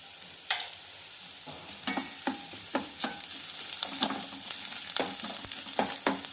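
Ginger paste frying in a pan for a bhindi (okra) curry, with a steady low sizzle broken by sharp stirring scrapes and clinks spaced through the stretch, close and moderately loud, no talking.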